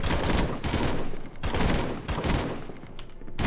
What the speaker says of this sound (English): I'm gonna use this gun.